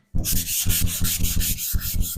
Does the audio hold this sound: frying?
no